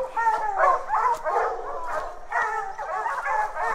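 Hunting dogs bay and yip at a treed bear, a rapid, excited chorus of several overlapping barks and whines repeating throughout at moderate distance.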